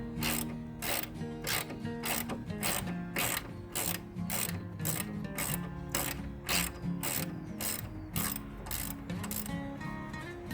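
A ratcheting wrench backs bolts out of a railroad motor car, its pawl clicking in quick regular bursts, close and fairly loud, with clunks and scraping from the metal parts between strokes.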